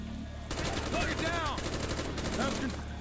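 Rapid automatic gunfire from Call of Duty: Black Ops starts abruptly and rattles on continuously, loud and close, with voices briefly talking over it.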